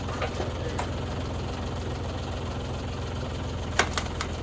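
A tractor engine drives a Tractor Supply County Line 3-point wood splitter, a steady low mechanical rumble holding even throughout, with a couple of brief sharp clicks near the end.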